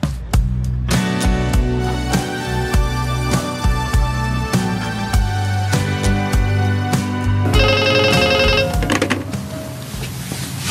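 A telephone rings in a living room during a drama scene, repeated electronic ringing that persists over background music for most of the stretch, with a denser burst of bright tones near the end.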